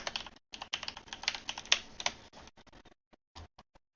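Steady typing on a computer keyboard, quick irregular bursts of close, crisp key clicks that thin out into scattered single taps with short pauses near the end.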